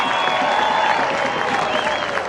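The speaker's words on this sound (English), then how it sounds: "Why don't you give everybody, come on, a round of applause." A crowd at a USAC/CRA sprint car race at Perris, California claps and cheers in a loud, continuous wash of applause, with some voices mixed in.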